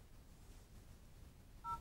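Keypad tones from dialing a mobile number on an Epoca Gadget III tablet's phone function, a brief pair of beeps arriving near the end over a quiet low hum.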